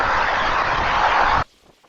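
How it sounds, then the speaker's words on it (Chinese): Steady, loud broadband hiss of heavy rain pouring down during a summer downpour near a riverside road, filling the clip before cutting off abruptly near the end. "听到这个雨点声啊，越来越大了"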